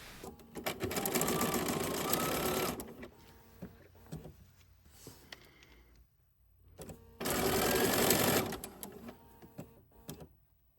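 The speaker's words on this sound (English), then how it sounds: "you're just going to sew on your machine along this top edge with a 1/4 inch seam" A sewing machine stitching a quarter-inch seam along a quilt block edge, two loud runs of fast whirring stitches separated by a quieter pause with handling noises.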